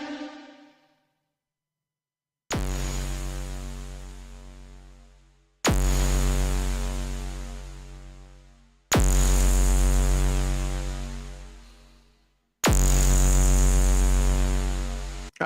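A Liven Ambient 0 reverb effects pedal demonstrated with four loud sustained tonal chords, each struck and left to decay in a long smooth tail, after a brief quieter note at the start; no talking.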